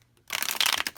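A brand-new deck of Hermes playing cards is riffle-shuffled up close after a quiet start, a rapid, dense fluttering burst of card edges that stays loud for most of a second.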